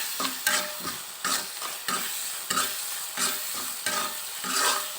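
Spice paste of garlic, cumin, turmeric, chilli and salt stir-fried with onion in a pan, loud repeated scraping strokes of the spatula over a constant sizzle, close and rhythmic, no talk.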